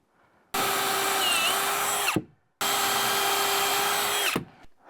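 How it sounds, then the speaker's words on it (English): A power drill pre-drills a drywall corner in two steady bursts of about two seconds each, revving high and then winding down, with a short pause between them. "what I'm gonna do is pre-drill it and screw it"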